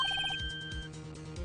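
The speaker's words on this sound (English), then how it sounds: "I heard a phone ring just now." A phone ringtone from the Phoenix Wright: Ace Attorney video game, a brief, bright electronic ringing pattern at the start that fades into low game background noise.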